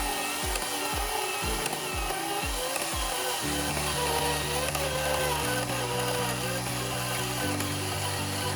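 A power tool cuts through a metal handle during a hydraulic tank rebuild on a Genie lift, starting as a series of short rhythmic bursts before settling into a steady, loud, continuous whine that shifts pitch in steps.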